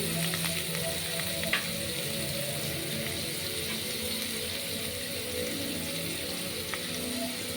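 Five-spice seeds (panch phoron) sizzle in hot oil in a pan while cooking masoor dal with gourd, a steady close frying hiss with faint crackles and small pops, with no talk.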